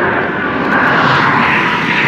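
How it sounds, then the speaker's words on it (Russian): A jet airplane roars overhead outdoors near the Hoover Dam in Arizona, a loud, steady broadband engine rush with no gaps and no talking. "Вон самолетик полетел."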